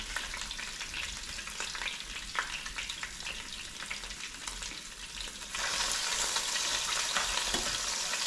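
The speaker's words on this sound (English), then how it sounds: "The bacon sizzling." Bacon sizzling and crackling steadily in a frying pan, close up, growing louder and denser partway through; no talking.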